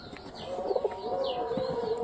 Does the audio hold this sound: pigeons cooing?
yes